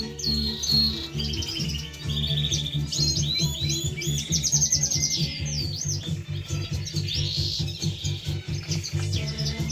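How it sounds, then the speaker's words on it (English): Three young Norwich canary chicks chirp in a steady stream of high, thin calls and trills, close by and fairly loud, over a low rumbling background hum. "Here's an update on the 3 young Norwich chicks."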